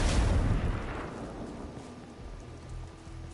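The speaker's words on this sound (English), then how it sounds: "Grenade coming in." A grenade blast in a video game, a heavy booming burst at the start that rolls off into a long rumbling decay, loud and close, with no talking.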